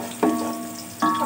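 Onions frying in a pan for beef yakhni pulao give off a soft sizzle, with two brief louder bursts as the pan is stirred.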